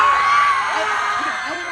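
An audience at the Harker Quadchella 2022 school event screaming together, a loud, sustained collective shriek lasting under two seconds.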